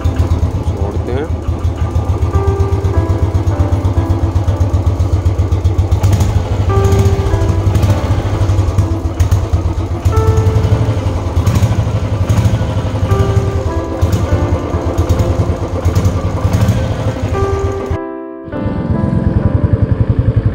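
Motorcycle engine idling steadily after starting, loud and close with a constant low rumble, dropping out briefly near the end before resuming; a voice talks over it.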